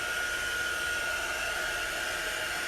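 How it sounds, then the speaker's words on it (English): A hair dryer drying ink on a canvas pillow blows continuously close by, a steady, even hiss and whine with no pauses or voices. "Nothing like watching a blow dryer dry some ink live on Facebook."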